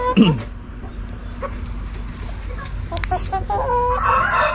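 Chickens cluck over a steady, noisy background, with scattered short calls rising and falling throughout.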